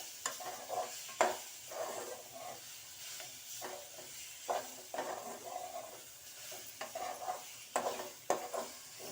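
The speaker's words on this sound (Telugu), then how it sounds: "ఈ కారం అయితే ఎక్కువగా ఫ్రై చేయకూడదు, ఒక 5 నిమిషాలు ఫ్రై చేస్తే సరిపోతుంది." Grated fresh green coconut and chili powder frying in a pan give a faint, low sizzle under repeated scraping stirs of a spoon, soft and close.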